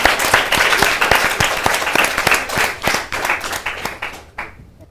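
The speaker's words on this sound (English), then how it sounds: "Let's clap for them on." An audience applauds children at a Season 6 Little Stars spelling contest, a dense steady patter of many hands clapping close by for several seconds before fading out at the end.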